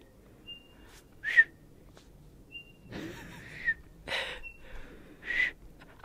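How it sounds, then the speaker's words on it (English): A person whistling outdoors on a steep canyon trail at Bryce Canyon, several short, thin, breathy whistle notes spaced a second or more apart, with airy breaths between them, close and fairly quiet. "I have the shittiest whistle as well"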